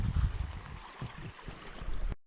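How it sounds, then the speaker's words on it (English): Creek water rushing along a mountain trail in the Sawtooth Mountains, a steady broadband wash of flowing stream, fairly close and continuous, cutting off abruptly near the end. "Not a single noise except that water"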